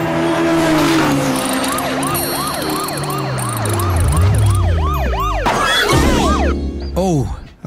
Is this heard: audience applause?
no